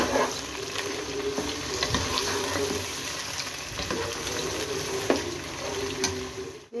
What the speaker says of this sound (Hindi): उसको मैं अच्छी तरह भून रही हूँ लहसुन अदरक के साथ